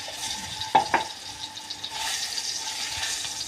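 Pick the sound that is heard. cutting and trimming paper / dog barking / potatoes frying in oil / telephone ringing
potatoes frying in oil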